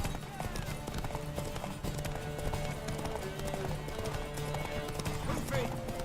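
Horse hooves clopping in The Witcher 3 video game, a faint rhythmic clatter under game sounds, tonal music and a voice talking throughout.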